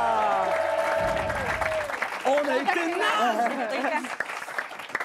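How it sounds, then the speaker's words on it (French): Studio audience applause during a French live League of Legends game show, a steady wash of clapping that runs beneath ongoing talk from the hosts. "on peut les applaudir bien fort"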